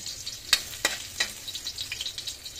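Garlic fries in cooking oil in a pan, sizzling steadily with sharp spatula taps and scraping stirs up close, and no one talks.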